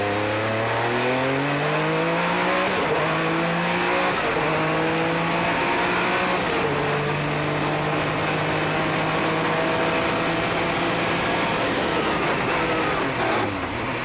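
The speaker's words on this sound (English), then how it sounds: "You hear that scream of that rotary engine." Race cars passing on a road course, among them a Mazda with a rotary engine, whose high, piercing scream rises and falls with each downshift and pass, loud and close, layered over the drone of other engines.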